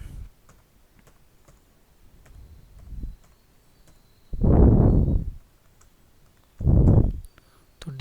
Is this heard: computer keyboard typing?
yes